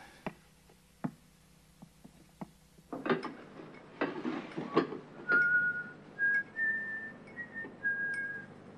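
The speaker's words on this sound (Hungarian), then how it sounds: "Csak olyan fülbe mászó dallam. Fütyül" A person whistles a catchy tune up close in a series of clear rising and falling notes. Soft clicks and knocks come before and under the whistling, and there is no talk.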